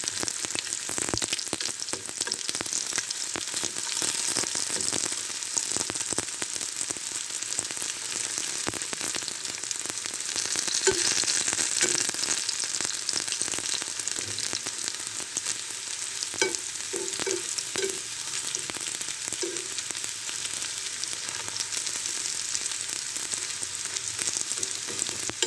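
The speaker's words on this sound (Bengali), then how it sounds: "এভাবে আমি লাল লাল করে ভেজে নেব।" Potato and tomato chops fry in hot oil, giving a dense, steady sizzle with occasional soft stirring scrapes throughout, close and moderately quiet with no talking.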